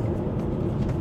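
A 2020 Mitsubishi Eclipse Cross Ultimate drives on the road, giving a steady, dense low engine and tyre rumble heard from inside the cabin, with no one speaking.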